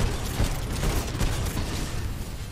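Gunfire in the Titanfall 2 video game, a dense continuous barrage of booming shots and rumbling impacts throughout, loud and close with no talk.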